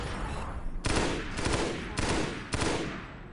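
Battle rifle fire in Halo: Combat Evolved (SPV3) rings out in three loud, sharp bursts spaced under a second apart, each a quick cluster of cracking shots over a steady background din, with no talking.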